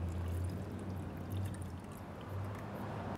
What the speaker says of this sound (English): for the buttermilk soak, we're gonna start with a quart of buttermilk.